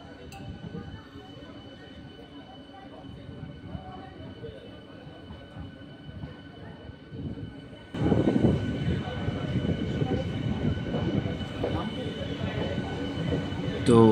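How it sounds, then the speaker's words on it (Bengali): A local train pulls out of Krishnanagar City Junction toward Amghata with a low rumble that suddenly swells into a louder, broader roar of wheels and carriages. Voices can be heard faintly beneath it. "এবার ধীরে ধীরে এগিয়ে যাবে আমাদের এই ট্রেনটা"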